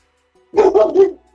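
A puppy gives three quick, close barks in a row, loud and clear, with brief quiet before and after and no talking.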